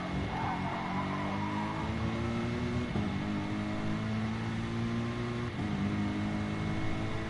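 GT race car engines from Gran Turismo Sport drone steadily at a distance, several tones rising and shifting as cars accelerate through corners, moderately faint with no pauses.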